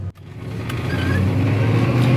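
An Astro Blue 1970 Chevy Chevelle with a 250 horsepower engine running close by: a steady, low idling rumble after a brief click at the start.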